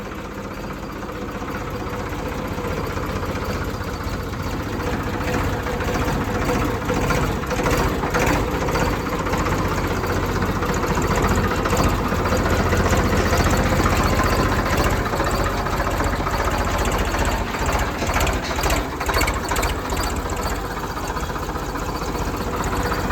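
A 1989 Ford 3600 tractor engine idles steadily and loudly throughout, a continuous low rumble with a rapid knocking pulse and no voices.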